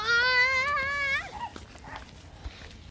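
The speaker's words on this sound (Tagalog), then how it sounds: "Dami aso." Out on a riverside walk after rain, a dog lets out one drawn-out, wavering whine or howl that breaks off after about a second. Quieter rustling and faint outdoor noise follow.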